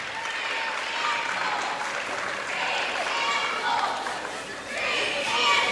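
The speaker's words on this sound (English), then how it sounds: "But we saw some claps." Crowd applause in a gym during a high school boys basketball game, scattered clapping that swells and fades in waves at moderate distance, with a commentator talking over it.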